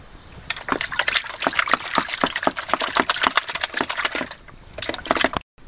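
Gold pan being worked at a river, sloshing water over blonde, black and purple garnet sand while panning down concentrates; steady splashing and swirling with rhythmic wet slaps, close and continuous, no talk.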